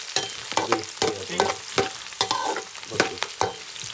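Thick-cut chillies fry in a pan for a camel meat masala roast, a close sizzle broken by repeated sharp spatula scrapes and stirs in an uneven rhythm.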